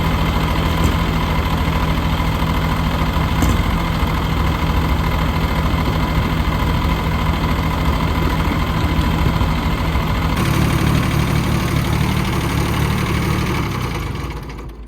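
A car engine idles steadily to warm up after a radiator leak repair, a loud, constant near drone with a low hum that shifts slightly near the end before fading.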